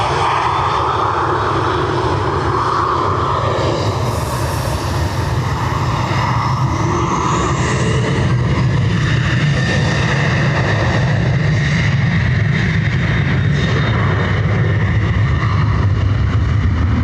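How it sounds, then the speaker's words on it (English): Loud, close roar of an Etihad jet departing Dublin Airport, with rumbling engine crackle and a rising whine, filling the whole stretch with no talking. "Crack now on this Etihad"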